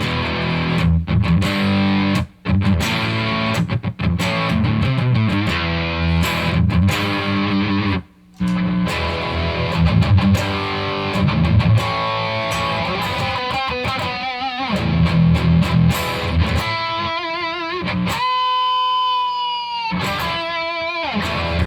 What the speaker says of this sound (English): I'll play a little high gain every once in a while with some stuff like this